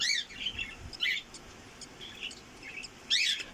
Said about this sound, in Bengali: অলমোস্ট ফাটে ফেলছে, ও নিজে নিজে বের হইতেছে।